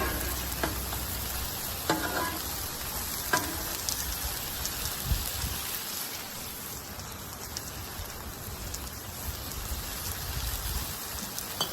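Frozen sirloin Philly steak frying in a pan, a dense continuous crackling sizzle like rain on a surface, with a few clatters and scrapes of a utensil, close and steady throughout.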